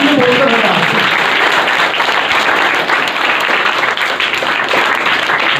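Loud, dense audience applause at a writers workshop in a school in Patiala, close and continuous from start to finish with voices faintly mixed into the clapping.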